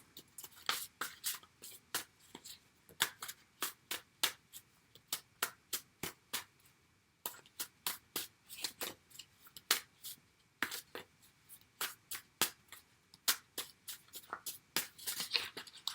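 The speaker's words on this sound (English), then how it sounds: "World's longest shuffle." A deck of playing cards is shuffled over and over in a long run, each riffle a sharp crisp burst of flicking cards. The bursts repeat steadily at close range with a short pause midway, and no one speaks.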